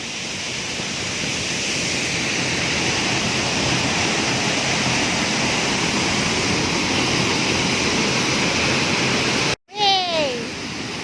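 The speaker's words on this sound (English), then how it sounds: "Look at that stream of water." A waterfall stream of water roars as a loud, steady, close rush that fills the whole clip, broken near the end by a sudden sharp knock and a brief whooshing sweep.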